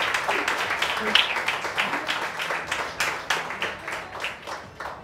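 A small group claps in a quick, uneven rhythm, moderately close, the applause thinning out toward the end.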